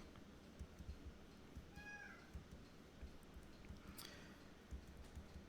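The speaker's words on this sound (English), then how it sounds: "I don't know if you could hear her meowing in the background" A pet cat meows once, a short, faint, rising cry in the background against a steady low hum, with a brief click soon after.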